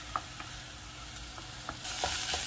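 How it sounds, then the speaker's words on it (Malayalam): Ginger garlic paste and crushed green chilli sautéing in a hot pan, with a steady sizzle and a few soft stirring clinks close by. "ഇനി ഇഞ്ചി വെളുത്തുള്ളി പേസ്റ്റ് പച്ചമുളക് പൊടി ചതച്ച് വെച്ചത് ഇടാം. അത് നല്ല പോലെ ഒന്ന് വഴന്ന് വരണം."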